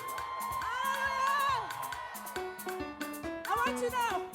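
A church youth congregation screams and cheers loudly for a few seconds, a dense mix of voices and whoops with sustained tones from music running underneath.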